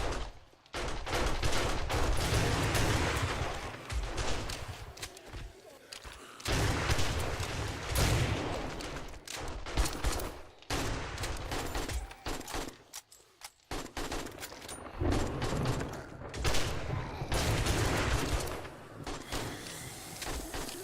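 Sustained, dense gunfire from the zombie survival game 7 Days to Die, loud bursts of automatic and rapid shots filling nearly the whole stretch with only a few brief lulls, no talking over it.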